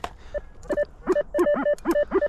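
Repeated electronic beeping tones from a metal detector giving a clean signal reading 80 in a field, several short pulses with pitch wobbles, fairly loud and close, no talking.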